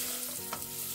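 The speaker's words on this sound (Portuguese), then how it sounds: "eu vou fritar aqui bacon" Finely chopped bacon and sausage fry in a pan, giving a steady, close, dense sizzle that continues without pause and without talk.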